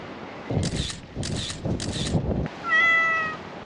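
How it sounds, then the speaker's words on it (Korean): Several cats meow by the sea on Oedal Island near Mokpo, three or four fairly close calls in a row, followed by a brief camera shutter-like click sequence. "진짜 귀여운 고양이들이 엄청 많아요."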